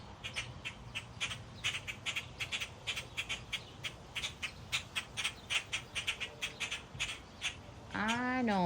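Baby blackbirds squawk on a front porch in a rapid, uneven series of sharp, close calls, followed at the end by a brief whistling, warbling sound, and low murmuring runs beneath.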